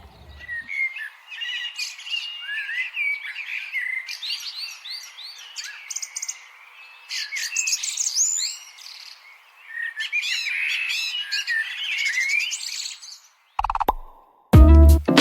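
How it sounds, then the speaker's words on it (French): Several birds chirp and sing in overlapping, busy phrases throughout, fairly close, before a couple of abrupt louder bursts at the end. "Le son des oiseaux."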